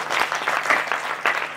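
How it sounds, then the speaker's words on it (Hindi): An audience at a Hindi kavi sammelan poetry gathering in Sabalgarh gives a short burst of lively, close clapping, uneven and crowded. "मैं चाहता हूँ कि दादा राजवीर भारती के सम्मान में आप सब लोग जोरदार तालियां बजाएं।"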